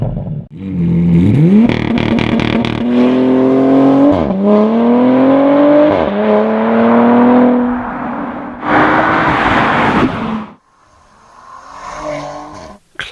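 A Porsche Panamera E-Hybrid's 2.9-litre 330 hp turbocharged V6 accelerates hard, climbing through several gears with rising whine and sharp shift breaks, loud and close, then a rushing wind-like surge and a brief quieter tail.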